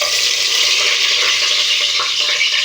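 Whole biryani spices, four cloves, three cardamom pods, cinnamon and star anise, sizzling loudly in hot oil and ghee. The dense frying hiss stays close and steady throughout with faint stirring underneath.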